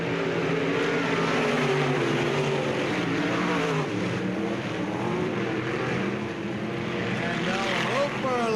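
Race cars roar around the track at Bureau County Speedway, engines rising and falling as they pass, with a radio announcer talking over the continuous race noise.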